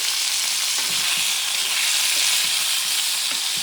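Bison meat sears in a hot pan for a spicy stew, giving a loud, continuous, close sizzle with faint stirring movements underneath and no talking.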